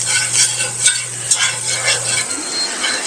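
Wagyu smash burgers sizzle in butter on a hot griddle, a steady bright frying hiss with scattered pops and spatters, close and continuous with no voices.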